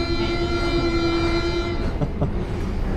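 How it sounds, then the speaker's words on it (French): Toulouse metro train heard from inside or on the platform: a steady, loud rumble with a sustained whining tone that cuts off partway, followed by a couple of clunks as it runs on. "Évidemment qu'il fallait qu'on teste le métro à Toulouse"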